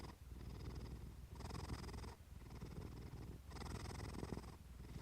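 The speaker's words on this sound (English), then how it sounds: "The purring continues" Cat purring close up, a soft continuous rumbling with a steady rhythm of inhale and exhale cycles, quiet and alone without other sounds.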